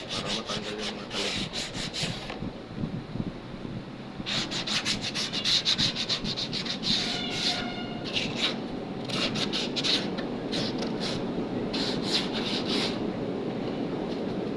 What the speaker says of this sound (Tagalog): Lihain natin ng tanggalin lang natin yung mga matatalim.